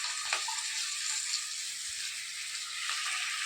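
Vegetables, including beetroot, and small onions sauté in a pan for sambar, a soft, continuous sizzle with a few faint stirring touches, close but fairly quiet and with no talking.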